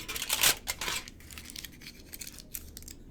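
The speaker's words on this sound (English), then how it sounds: "Use some tin foil." Tin foil handled and crinkled up close, with a loud crackling rustle at first that settles into softer, sporadic crinkles.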